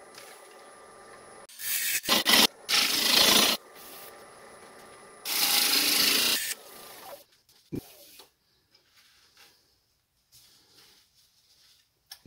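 Green fruit wood bowl turning on a lathe, the gouge peeling off long wet ribbons in two loud bursts of hissing, scraping cuts separated by quieter spinning, then sparse small clicks and near silence.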